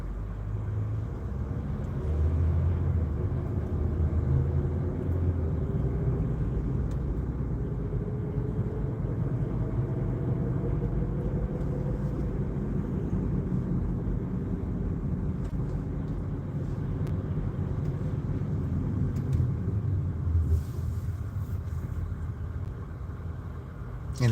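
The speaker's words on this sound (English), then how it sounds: "The traffic can get really bad up here." Road traffic rumbles continuously in a steady low drone of passing vehicles, close and constant, with no clear gaps between cars.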